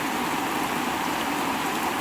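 Steady rain falls continuously outdoors, a dense, even hiss of drops on surfaces with no break, loud and close.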